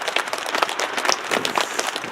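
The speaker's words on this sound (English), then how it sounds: "So round of applause for our donors as well." Round of applause from an audience at a park station grand opening ceremony, steady dense clapping throughout at moderate loudness with no talking.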